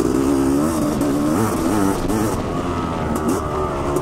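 A Honda CR500AF two-stroke dirt bike engine runs loud and close on a steep hill climb, holding a rough, throaty drone that wavers as the throttle rises and falls.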